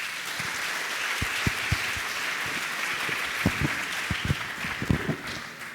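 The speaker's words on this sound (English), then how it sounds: "One round of applause for the board again." Sustained applause from a general assembly council meeting audience honoring the board, broad steady clapping with a few sharper, louder claps standing out near the microphone, no talking.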